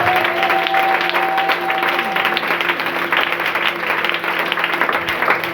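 A church congregation applauds steadily and loudly throughout, a dense, continuous wash of clapping with a sustained tone lingering in the background.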